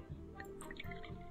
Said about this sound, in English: 1, 2 pours of some triple sec.